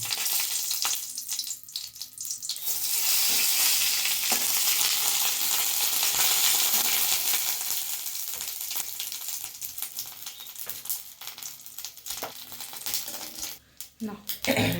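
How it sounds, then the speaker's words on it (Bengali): A cinnamon stick and bay leaf drop into hot oil in a pan, setting off a loud, close crackling sizzle with scraping stirs and clinks, easing then flaring again near the end; no voices. "তেলে দিয়ে দেবো দারুচিনি আর তেজপাতা"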